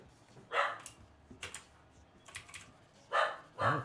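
A dog in the background gives several short, sharp barks in separate bursts, moderately loud and a little distant, with quiet gaps between them.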